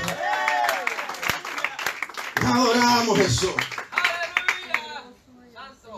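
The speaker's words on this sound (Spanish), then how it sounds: "¿Cuánto le dan un aplauso a Dios?" A church congregation claps during a sermon, with steady applause blending under a voice speaking over it.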